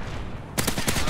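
Gunfire in Call of Duty Modern Warfare 3 during a Domination match on Terminal: a rapid burst of automatic shots, several sharp cracks in quick succession over steady game background noise.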